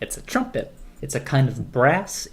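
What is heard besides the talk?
None of the usual background noises is heard.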